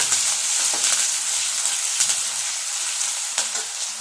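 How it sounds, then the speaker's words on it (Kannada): Long brinjal fries in a pan for gojju, making a steady close sizzle with soft stirring scrapes throughout, heard alone without talk. "ನೋಡಿ, ಚೆನ್ನಾಗಿ ಫ್ರೈ ಮಾಡ್ಕೊತಾ ಇದ್ದೀನಿ."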